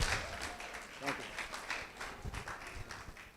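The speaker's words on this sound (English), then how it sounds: "a round of applause for Razak" An audience at a gathering applauds, a dense patter of many hands clapping at moderate volume with uneven bursts, and talk mixed in underneath.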